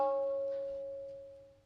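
One tabla stroke, na, is struck on the outer edge of the drum with the index finger and rings out clear and pitched, then fades slowly over under two seconds with nothing else heard.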